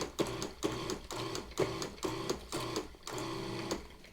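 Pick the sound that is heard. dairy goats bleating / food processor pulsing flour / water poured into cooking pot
food processor pulsing flour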